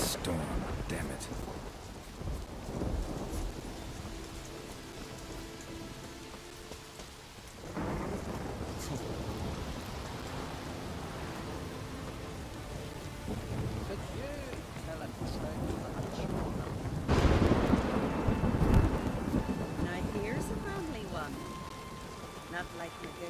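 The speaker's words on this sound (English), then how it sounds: "The storm, damn it." Thunderstorm with steady rain in the video game The Witcher 3, a continuous loud wash of rainfall broken by deep rolling thunder swells, with voices speaking at times.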